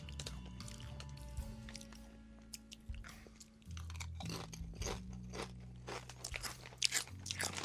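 Crunching and chewing of Quest protein chips in barbecue flavor, close and quiet, with repeated crisp bites, wet mouth sounds and a low steady hum behind.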